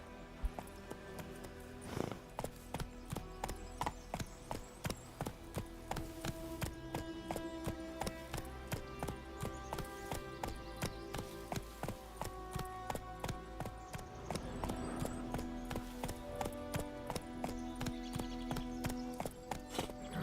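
Horse hoofbeats from The Witcher 3, a continuous rhythmic clip-clop of galloping and trotting hooves running throughout, with game music and ambient effects beneath.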